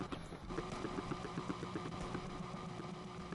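A twin-turbo flat-six car engine in the racing game Need for Speed Unbound runs at a steady, rhythmic idle-like throb with faint pulsing beats, heard quietly and alone.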